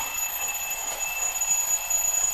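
An alarm clock rings with a thin, steady electronic tone, continuous and moderately faint, with no voices over it.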